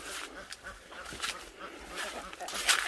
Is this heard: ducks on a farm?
yes